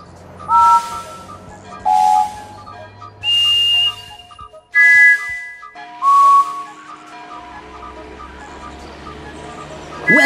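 Cartoon steam engine whistles from the Thomas & Friends video game Trouble on the Tracks, five loud short toots spaced about a second apart, each a bright steady tone, with a soft musical background underneath.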